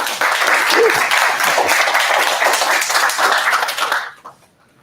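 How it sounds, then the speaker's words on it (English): A seminar audience in Arlington, Texas bursts into loud, sustained applause for a speaker, a dense wash of many hands that holds steady for about four seconds before fading quickly to silence. "Guys, a big round of applause for Darrell Steed."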